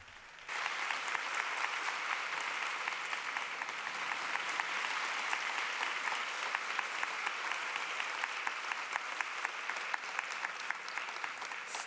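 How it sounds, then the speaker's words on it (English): Audience at a peace foundation forum breaking into sustained applause, a dense, even wash of many hands clapping that starts abruptly and continues steadily to the end. "Let us give a big round of applause to the couple."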